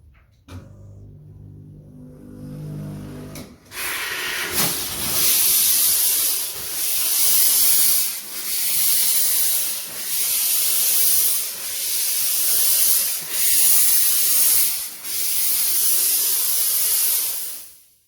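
A steam fogging aircon-cleaning machine with its normal steam spray head: a steady, loud hiss of broad steam spray starts after a few seconds of quiet, pulsing in long waves as the jet continues.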